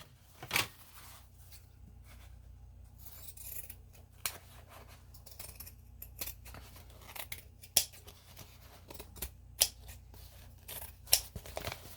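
Scissors snip through household trash being cut up for the bin, giving scattered sharp, close clicks and snips with short quiet gaps between them and no talking.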